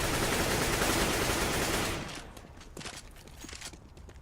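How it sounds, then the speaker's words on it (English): A fragmentation grenade and gunfire in a Counter-Strike esports match, Dignitas versus Astralis, heard as dense loud rapid shooting for two seconds that gives way to quieter scattered shots and footsteps. "we're going to be seeing a fragmentation grenade tossed in through heaven"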